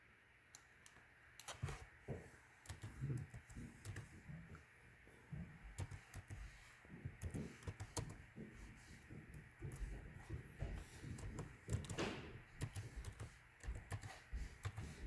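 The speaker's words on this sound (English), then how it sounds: "hold on, I'm typing something" Irregular bursts of one-handed keyboard typing and clicks, close up, with pauses between short runs of keystrokes.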